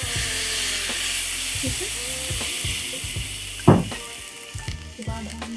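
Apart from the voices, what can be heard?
soy sauce splashed into sizzling pan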